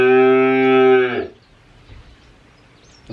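A cow gives one long, loud moo lasting just over a second, then the clip drops to quiet barnyard background with no voices.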